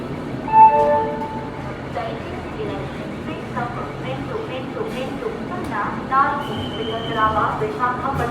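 A passenger train rolls along at Visakhapatnam Junction with steady rumbling and rhythmic clatter of wheels on rails, while people talk nearby over the noise.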